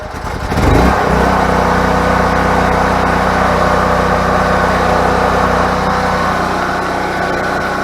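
A generator engine sits inside a shed, is choked and started, and catches after a brief crank. It then settles into a loud, steady running drone that continues without interruption.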